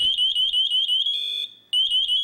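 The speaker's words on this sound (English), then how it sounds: "Listen for the M7 power module to sound the loud pass alarm." An MSA FireHawk M7 SCBA PASS alarm shrieks loudly and close, a rapid high-pitched pulsing warble that briefly shifts to a steady tone, cuts out, then resumes pulsing.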